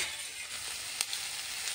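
Dry fish curry sizzles steadily in a frying pan as it is stirred, a close, even hiss with a couple of faint clicks from the spoon and no talking.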